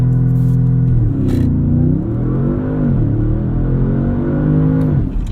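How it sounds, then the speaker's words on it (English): A 2016 Audi S7 sits in sport mode with traction control off and the brake pressed to the floor for launch control. Its engine revs loudly and up close, rising and dipping in repeated surges before holding high. "Push the brake all the way to the floor, rev it up."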